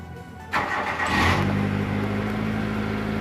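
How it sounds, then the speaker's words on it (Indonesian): A car engine cranks and catches after its weak battery was restored with hot water, then settles into a steady, close idle with no talk. "Oke, mobil sudah kuat lagi untuk starter."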